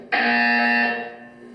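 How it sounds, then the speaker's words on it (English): A single loud, harsh electronic buzzer from the video game Portal 2 blares steadily for almost a second, then fades out. "You will hear a buzzer. When you hear the buzzer, look up at the ceiling."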